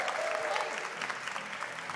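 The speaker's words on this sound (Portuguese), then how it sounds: "Você pode aplaudir Jesus bem forte." A congregation at a live gospel concert recording applauds enthusiastically, a short burst of dense, even clapping heard from a little distance.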